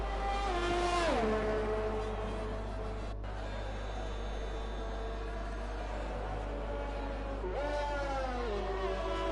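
Formula racing car engine on a flying lap in a racing video game, a Ferrari-style single-seater: steady high-pitched whine with clear gear-shift pitch drops near the start and again near the end, loud and continuous.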